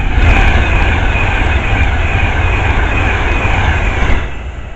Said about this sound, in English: The next train pass by is a Pendo.